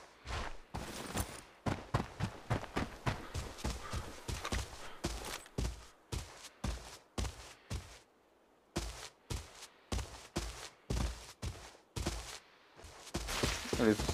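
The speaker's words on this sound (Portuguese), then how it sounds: "Será que eles ouviram os tiros e ignorou?" Gunshots ring out in the Arena Breakout video game, loud sharp reports fired in rapid bursts with a few short pauses between volleys.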